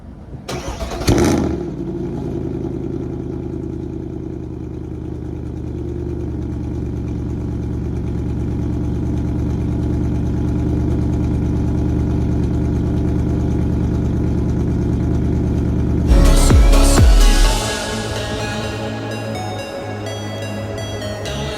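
Cold start of a 6.3 liter V8 car engine at night: the starter cranks, the engine catches and settles into a loud, steady, deep idle that lasts many seconds, then a brief louder burst of revving near the end before it returns to idle.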